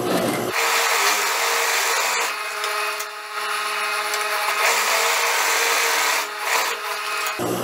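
A sewing machine stitching gathering seams along the edge of a blouse sleeve, a loud, continuous close-up rasping whir that runs almost unbroken with brief dips.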